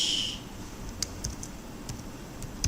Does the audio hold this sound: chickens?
no